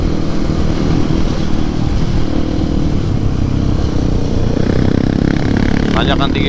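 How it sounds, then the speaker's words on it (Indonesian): A motorcycle climbs a steep, high uphill road while touring toward Geopark Ciletuh, its engine a steady, loud, straining drone throughout, with a voice briefly heard near the end. "Ini enak banget ya, tanjakan tinggi gini motor nggak berasa lemas"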